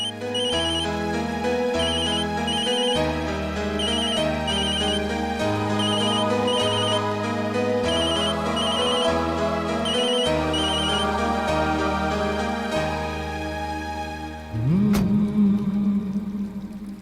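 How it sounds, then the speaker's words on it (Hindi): A phone ringtone plays a repeating electronic melody, loud and steady, for about fourteen seconds, then gives way to a brief burst of noise. "कनिका का फोन।"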